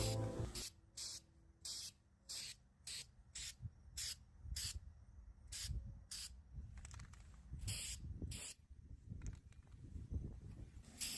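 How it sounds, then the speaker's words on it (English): Rust-Oleum textured spray paint hisses from a can in a run of short, sharp bursts, close and crisp, with quiet handling sounds in the gaps and no talking. "For our paint color, I'm going to take some of this Rust-Oleum textured spray paint."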